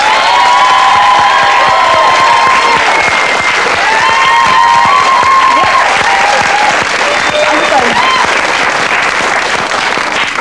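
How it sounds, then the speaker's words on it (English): A studio audience gives sustained, loud applause mixed with cheering and shouts, a dense continuous roar of clapping that lasts throughout after a show host invites them to vote. "they're going to give you their round of applause"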